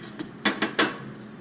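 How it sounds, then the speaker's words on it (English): A utensil stirring a bowl of flour mixed with salt and pepper gives a few sharp clinks against the bowl, the last three close together and loud. "Give that a little stir."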